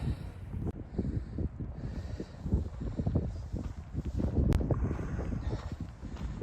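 Strong wind buffets the microphone on a Montana mountain trail, a steady low roar with gusty surges throughout, alone with no talking.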